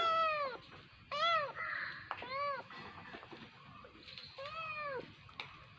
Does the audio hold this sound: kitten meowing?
yes